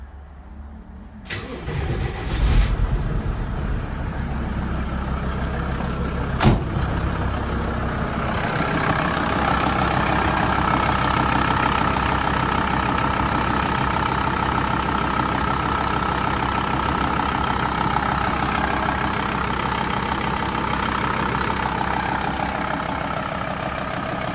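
A Volkswagen LT-35 2.5 TDI diesel van engine, newly replaced, cranks and starts after a few clicks, then settles into a steady, rumbling idle that runs on evenly and loud.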